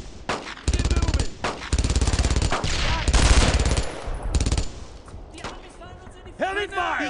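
Sustained bursts of machine gun fire rattle loudly in the World War II shooter game Brothers in Arms, several long volleys back to back, with shouted voices breaking in near the end.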